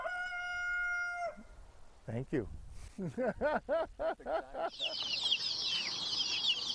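Retired chickens and roosters in Oregon: a long, drawn-out crow-like call, then a quick series of close, loud clucks, ending in a noisy rustle with a brief spoken remark.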